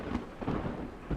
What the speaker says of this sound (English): And a storm, apparently.